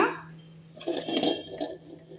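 Drumstick pappu, an Andhra-style dal with drumstick, being stirred in a metal pot, with a clinking scrape of the spoon swelling briefly in the middle, close and moderately loud over a low steady hum.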